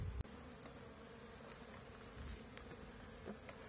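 Steady, close buzzing of many honeybees humming continuously at a hive, with a brief knock at the start and no voices.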